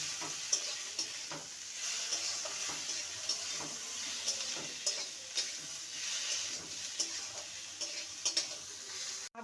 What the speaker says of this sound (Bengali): আর একটা মিডিয়াম সাইজের টমেটোকে ছোট ছোট করে কেটে নিয়েছি সেটা দিয়ে দেবো ভালো করে কষিয়ে নেবো